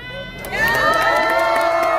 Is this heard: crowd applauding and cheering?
yes